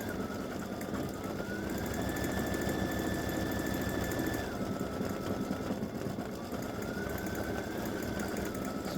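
An embroidery machine stitches green thread into a patch, a steady mechanical chatter running throughout with a rising whine as it shifts direction, close and continuous with no talking.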